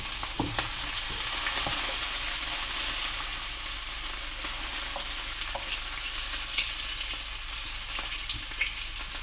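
Meatballs brown in a frying pan with a steady, moderately loud sizzle, broken by a few faint clinks and scrapes as they are gently moved around.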